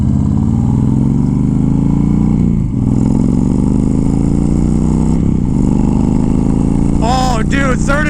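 A Fury motorcycle with a flashed ECU rides at speed, its engine droning loud and steady with shifting revs, a few crackling exhaust pops near the end, and a voice speaking briefly over it.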